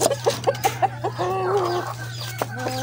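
A big feather-footed rooster clucks close by, a run of quick evenly spaced clucks followed by a longer wavering call and a few more clucks, over a steady low electrical hum.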